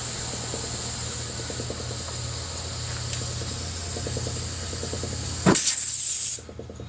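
Faint mechanical clicking, then a sudden loud burst of air hissing from a hole in a tire with a cut valve stem, cutting off after about a second.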